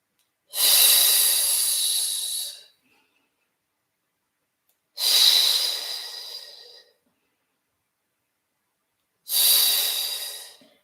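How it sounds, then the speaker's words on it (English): Three long, hissing breaths taken at an even pace during a Pilates exercise, each lasting about two seconds with silent gaps between, close to the microphone. "Inhale 2, 3, 4, 5, exhale 2, 3, 4, 5."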